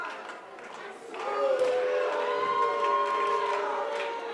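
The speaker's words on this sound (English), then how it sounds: "Crowd trying to rally behind Ryan Slade." A wrestling crowd at a 3XWrestling event swells into a sustained, distant roar of chanting and shouting behind wrestler Ryan Slade, building after a quieter start and holding steady, with a tonal whistle or siren-like cry running through it.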